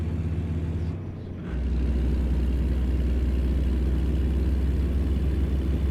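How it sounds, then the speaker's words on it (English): A truck engine in American Truck Simulator drones low and steady, dipping briefly before settling into a loud, constant heavy rumble. "if you need me to turn the engine noises down and the music up, let me know"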